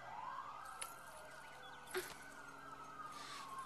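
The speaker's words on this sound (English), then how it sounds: "I can't think with all these sirens." Emergency vehicle sirens wail in a distant, faint wash, with several overlapping rising and falling tones sweeping continuously under a quiet background.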